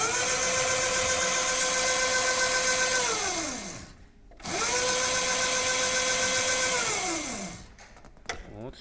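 A children's electric motorcycle motor whirs as it drives the chain, spinning up steadily, then winding down, pausing, and running up again, loud and close.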